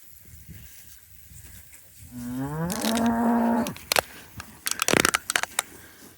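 Beef cattle in a pasture give one long, loud, drawn-out moo close by, followed by sharp crunching and rustling noises nearby, with quiet outdoor background before and after.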